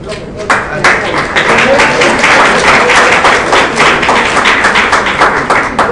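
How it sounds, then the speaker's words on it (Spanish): Audience applause for a professor at a university talk, a dense steady wash of many hands clapping close by, sustained for several seconds. "Un aplauso"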